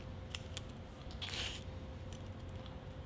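Scissors snip back bonsai branches, a few quiet, crisp clicks spaced apart, followed by a brief rustle of foliage in a calm setting.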